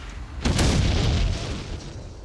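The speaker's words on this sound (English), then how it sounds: "our hero stuntman has to absorb the full impact of the grenade" A grenade detonates in a Mythbusters stunt test, a single loud close boom with a sharp onset that rolls into a long rumbling decay.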